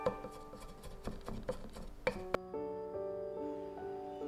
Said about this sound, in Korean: 마늘은 그때그때 듬뿍 다져주고